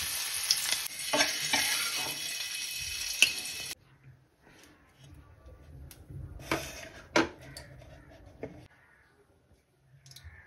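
Shallow-fried paneer sizzling in oil, a loud crackling fry for the first few seconds, then quieter scrapes and sizzle bursts as pieces are lifted out, close up with no talking.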